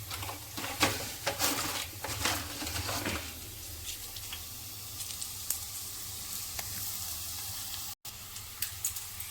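Dried red chillies frying in oil in a pan, a close, steady sizzle with a few stirring scrapes and crackles, louder at first then settling.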